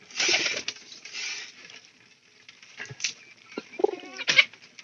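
A few soft pigeon coos close by in a quiet spot, with light rustling and shuffling between calls.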